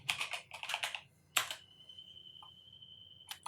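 Typing on a computer keyboard while entering text into an Excel spreadsheet: a few quick bursts of close key clicks, then a pause and one more short burst, with a faint steady tone in between.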